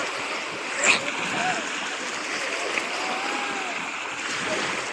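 Waves raised by a passing ship wash and splash against a riverbank in a continuous rushing wash, with a brief sharper splash near the start.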